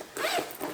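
A zipper on a travel bag compartment is pulled once, a quick close rasping zip lasting under a second, with no talk over it.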